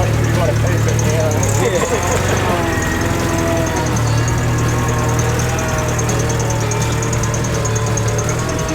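A Toyota Land Cruiser soft-top with a 22R engine idles steadily and loudly, a continuous low rumble with faint knocking texture running throughout.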